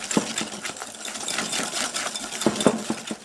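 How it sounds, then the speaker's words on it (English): Whisk beating sugar into egg yolks in a bowl for a banana and brown butter tart filling, a steady quick rhythmic clatter of metal wires against the bowl, close and moderately loud, with no talk. "Add sugar to egg yolks and whisk until light and creamy."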